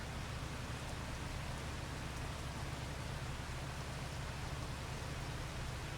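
Steady rain in Farming Simulator 25, a dense continuous hiss with a low rumble that holds evenly throughout, with no voices over it.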